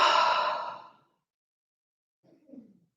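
A slow, deep breath during a guided meditation, a long airy exhale that fades out, then silence, then a soft breath in after a pause.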